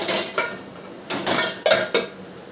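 Metal cooking pots and utensils being handled in a home kitchen, a series of sharp clanks and scrapes in irregular bursts, close and loud with no talking.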